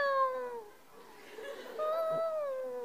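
A cat meows in drawn-out, wavering calls in the video game Meiji Tokyo Renka, heard close and clear, with a brief break in the middle.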